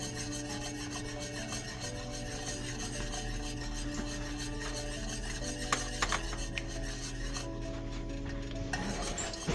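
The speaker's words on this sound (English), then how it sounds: "So we're going to continue stirring, but I did cut my heat down." A spoon stirs cheddar and Gruyere cheese into mac and cheese in a pot over lowered heat, making quiet, continuous scraping and rubbing strokes.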